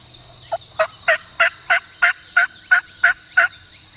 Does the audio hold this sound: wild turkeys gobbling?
yes